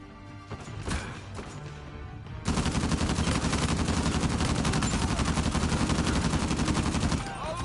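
Rapid automatic gunfire from a DSSHK gun in a video game, a loud, dense, sustained burst of shots lasting about five seconds after a few quieter clicks and impacts.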